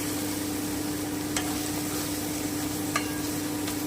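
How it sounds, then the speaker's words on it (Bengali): Mutton mince for chops being stirred in a frying pan, a soft continuous sizzle with a few faint scraping clicks of the spoon against the pan, steady and close. "আমি একটু নেড়ে নিলাম ভালো করে"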